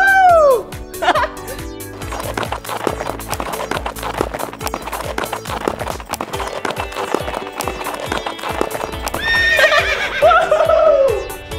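A horse lets out a loud whinny, then clip-clopping hoofbeats run on, and a second, longer neigh comes near the end, with a little voice and laughter mixed in.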